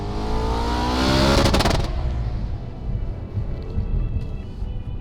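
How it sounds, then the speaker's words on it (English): A 2014 Audi RS5 Cabriolet's engine revs loudly and close by, building to a strong burst of revving in the first two seconds and then settling into a steady, lower rumble that carries on to the end. "First and foremost is the engine note."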